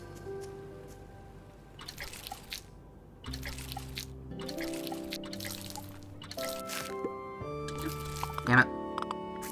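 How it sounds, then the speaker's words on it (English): Water splashes and drips in short bursts while plants are watered in the video game Grimshire, soft and close over game music tones. "I also need to water my plants"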